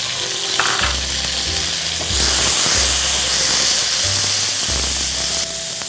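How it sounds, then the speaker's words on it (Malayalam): Tomatoes fry in hot oil for a chicken curry, a loud crackling sizzle that swells midway, with intermittent low hum in the background and no speech. "ടൊമാറ്റോ ഇങ്ങനെ എണ്ണയിൽ മൂക്കുമ്പോൾ പ്രത്യേക മണമാണ്"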